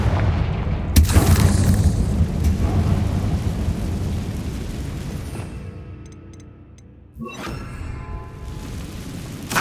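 A Confringo blasting spell explodes in the video game Hogwarts Legacy, giving deep booming blasts over a rumbling background, with a sharp burst near the start and another loud hit about seven seconds in.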